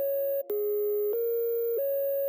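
A dry synth melody from an FL Studio beat with its effects switched off: clean sustained tones stepping between a few pitches, loud and alone with no other sounds.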